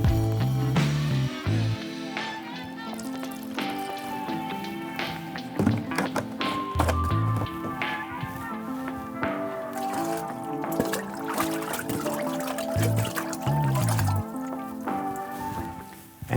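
Cleaning agent for a Dräger BG ProAir being measured and poured, with liquid running, dripping and trickling, plus a few thunks from containers, close by and with no talking.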